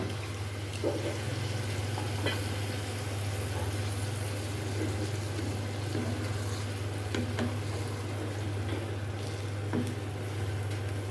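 Liver frying with tomato pieces in a pan, a steady low sizzle with a constant hum underneath and a few faint clinks.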